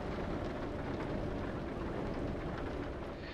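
Heavy rain pounds steadily on a truck cab during a long-haul drive, a dense continuous roar of drops with a low rumble underneath, loud and unbroken throughout.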